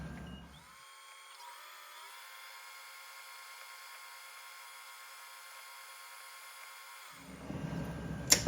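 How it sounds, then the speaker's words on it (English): A small 3/32 drill bit bores through metal on an engine valve part, giving a steady, sustained whine that lasts several seconds and then stops, with clattering handling noise at the end. "Then I'm going to drill through with a 3/32 drill bit."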